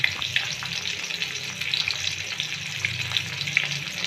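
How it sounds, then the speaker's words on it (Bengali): Pieces of rohu fish fry in mustard oil in a kadai, a steady close crackling sizzle with scattered bright spattering pops throughout, no voices. "আর রুই মাছের পিস দিয়েছি। এগুলো আমার একটু কড়া করে ভেজে নেব।"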